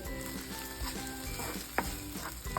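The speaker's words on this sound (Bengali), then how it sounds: "এবার ডিমের কুসুমটাও আমি সবজির সঙ্গে এক মিনিট মতো ভেজে নেব" Egg yolk frying together with vegetables in a pan, a dense steady sizzle with occasional utensil scrapes and taps, one sharper knock midway, no speech.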